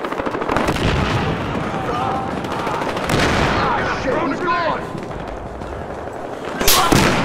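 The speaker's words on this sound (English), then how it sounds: "Oh, I don't like that sniper sound" Sniper rifle and other gunfire in a Battlefield Hardline multiplayer match, loud sharp shots and bursts crackling over continuous battle noise, with a strong report near the end.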